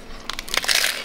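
Someone bites into a hard taco shell, a close, sharp crunch made of a few quick crackling bursts lasting about a second, loud and alone without speech.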